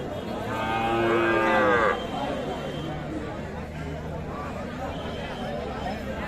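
A loud, drawn-out moo from a young bull calf rings out close by at a cattle market, then fades into a busy background of crowd chatter and murmuring voices.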